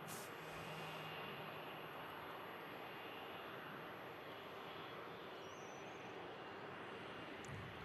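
A Vueling Airbus A320 airliner lined up on the runway at Manchester Airport in thick fog, its engines producing a steady, distant broadband roar that holds evenly throughout.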